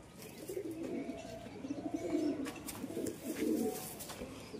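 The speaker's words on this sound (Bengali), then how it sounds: "এই হচ্ছে নর কবুতরটা, সবুজ দুবাজ নর" Pigeons in a loft, among them a green-marked male, give soft, low, repeated cooing in rolling bursts, close and fairly quiet, with no talking.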